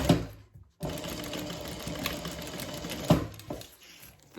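A sewing machine top stitching a bag runs in a continuous close, fast mechanical whir after a short pause, with a brief louder knock near the end before it carries on.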